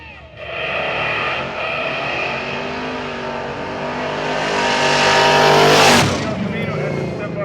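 A yellow El Camino and a red Model A coupe run side by side down a drag strip at a dragstrip reunion, a loud, sustained engine roar that swells and then drops as one backs off, under an announcer's voice.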